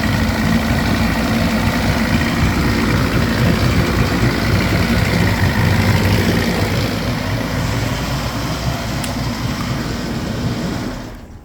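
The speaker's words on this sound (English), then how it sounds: "is a 1976 Evinrude 70 horse inline 3-cylinder 2-stroke." A 1976 Evinrude 70 hp inline three-cylinder two-stroke outboard runs steadily and loud with a low, throbbing drone. It holds nearly constant before cutting off at the very end.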